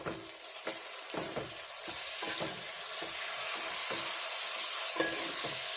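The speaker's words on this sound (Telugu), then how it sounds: "ఇప్పుడు ఈ 1/2 కేజీ మటన్ తీసుకొని ఇందులో వేసేసుకుంటున్నాను. వేసుకొని బాగా కలుపుకోవాలి." Half a kilo of mutton is stirred into sizzling masala in a pan for an Andhra-style mango mutton curry, with a steady frying hiss and repeated close scraping strokes of the spoon.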